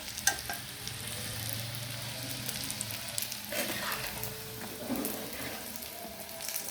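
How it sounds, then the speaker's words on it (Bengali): Gondhopata (gondhoful) leaf fritters frying in hot oil, a steady close crackling sizzle with occasional stirring clatter throughout, no talking. "এরকম করে ভেজে নেবেন পুরো বড়াগুলো"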